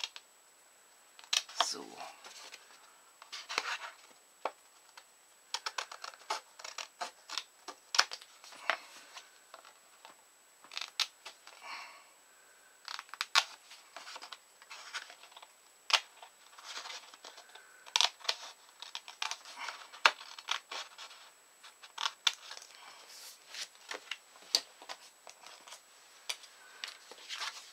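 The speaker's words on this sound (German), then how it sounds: "Da werde ich jetzt in der Mitte dieses kleine Rechteck außen wegschneiden" Scissors snipping a small rectangle out of paper for a handmade mini album, many quiet crisp cuts in irregular runs over half a minute, with a brief spoken word.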